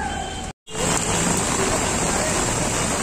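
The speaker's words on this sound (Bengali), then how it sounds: "সো ফ্রেন্ড বৃষ্টি কিন্তু ভালোই হচ্ছে" Steady rain falls at night in a Bangladeshi town, a dense continuous hiss with a brief dropout near the start.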